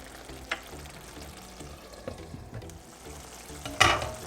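Fenugreek-leaf chicken curry (methi murgh) simmers and sizzles softly in a pan, with a few sharp spoon scrapes and clinks against the pan over a low, steady bubbling.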